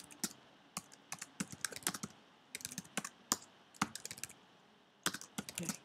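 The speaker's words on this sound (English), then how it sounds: "I'm going to type in a few list items" Quick bursts of typing on a computer keyboard, fairly close, with clusters of sharp key clicks separated by short pauses, alone without speech.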